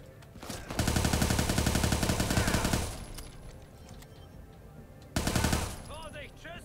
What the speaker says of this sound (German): Vorsicht, Schüsse!